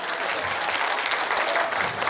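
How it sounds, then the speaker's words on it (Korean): An audience applauds at the end of a short lecture on ABA, a dense and steady stretch of many hands clapping with no pause, loud and even throughout. "박수 한번 쳐서!"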